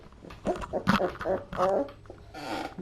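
Puppies play-fighting and gnawing on each other, giving off a busy run of small growls, whimpers and yips that keeps going close by with no pause.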